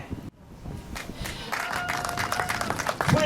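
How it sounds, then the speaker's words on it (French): Wedding guests applaud the couple after a blessing, the clapping starting thin and swelling into fuller, scattered applause with some crowd murmur and a few voices mixed in. "Vous pouvez les applaudir encore"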